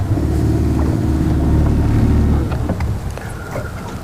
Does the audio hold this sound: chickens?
no